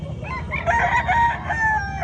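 Chickens clucking and a rooster crowing close by at a gamefowl expo in Carbon Public Market, Cebu City, a busy, continuous run of fowl calls with no talking.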